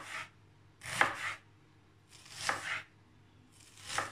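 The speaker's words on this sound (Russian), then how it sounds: "Нарезаем тоненько полукольцами." A sharpened knife thinly slices a sweet onion into half-rings on a board, each stroke a soft crisp crunch; four close strokes come in an unhurried rhythm with no talking.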